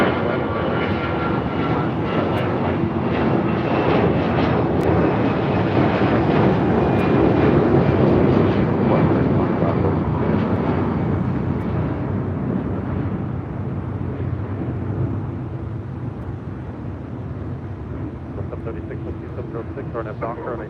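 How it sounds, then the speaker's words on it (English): An American Airlines Airbus A319 jet airliner departs LAX with a loud, continuous engine roar that holds strong and then slowly fades as it moves away. "Also up American Airlines flight 2546 heading to Mexico City. It's an A319."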